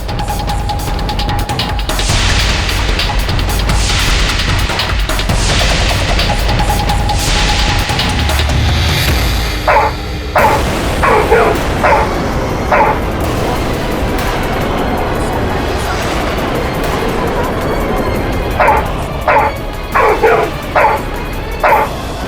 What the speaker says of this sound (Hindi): मुझे कुत्तों से डर लगता है